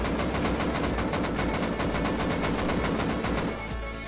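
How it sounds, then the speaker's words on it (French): Full-auto weapon fire in the video game Rust: one continuous stream of rapid, evenly spaced shots for about three and a half seconds, steady and fairly close, ending abruptly with no talk. "si vous tirez en full auto, cette technique sera très efficace à courte et très moyenne portée"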